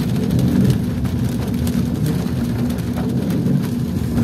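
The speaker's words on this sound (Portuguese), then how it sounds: "a chuva bate, cara, no vidro, aí tira o foco do celular" Rain beats steadily on a car's window glass in Cabo Frio, a dense, close, continuous patter with a low rumbling wash beneath it.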